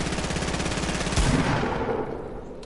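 Rapid automatic gunfire in a video game, a loud dense stream of shots close up that stops abruptly, leaving a short fading tail.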